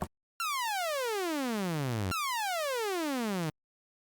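Two long descending synth pitch sweeps from Phase Plant, bright buzzy harmonic tones gliding downward over about two octaves each, the second restarting abruptly after the first, clean and isolated with no voice.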